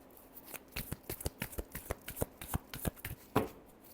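Tarot cards being shuffled by hand, a quick run of crisp riffling slaps in an irregular rhythm, close and soft, ending in one fuller snap, no speech.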